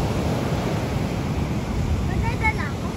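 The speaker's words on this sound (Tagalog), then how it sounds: "malakas ang alon" Strong ocean waves at San Juan, La Union beach, a constant loud roar of surf mixed with wind rumble on the microphone, with faint voices in the background.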